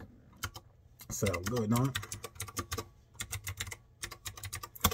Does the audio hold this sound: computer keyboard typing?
yes